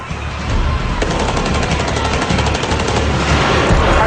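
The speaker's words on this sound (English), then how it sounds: "Shots are still being fired to the rear of the bank." Gunfire in the North Hollywood bank shootout, a dense, loud barrage of rapid automatic shots cracking continuously without pause.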